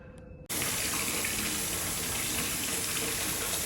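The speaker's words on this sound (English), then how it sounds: "so I'm going to take a shower beforehand" Shower water in a hotel bathroom suddenly turned on after a quiet moment, then a loud, steady, hissing gush of running water continuing to the end.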